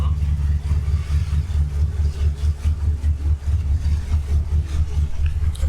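Yamaha jet ski engine running on the water, a steady low droning rumble that holds continuously throughout at close range, with faint background noise and no clear speech over it.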